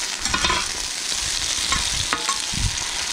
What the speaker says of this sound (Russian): Все, ребята, немножко поджарилось, перемешиваем.